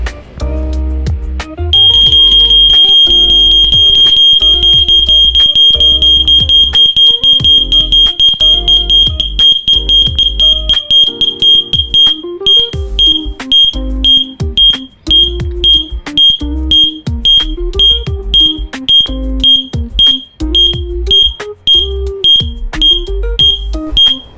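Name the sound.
DIY earthquake alarm device sounding like a smoke alarm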